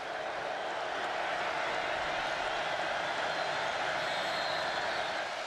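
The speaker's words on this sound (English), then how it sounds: "Well, the crowd got loud." A packed college football stadium crowd at Akron versus Oklahoma swells into a loud, sustained roar on a third down, a dense and steady wall of noise with no single voice standing out.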